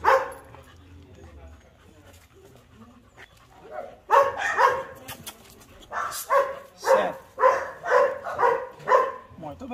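Several dogs greet a pit bull during a socialization session, giving short bursts of close barks, yips and panting that grow more frequent and rhythmic in the second half, with a few human voices speaking underneath.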